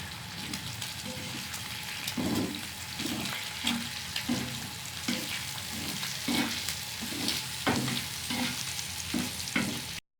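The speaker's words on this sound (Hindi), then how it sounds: "अंडे को अच्छी तरह से मिक्स करेंगे।" Eggs being stirred into potatoes frying on a tawa, with a steady sizzle and repeated scraping strokes of a spatula roughly every half second, close by and without talk.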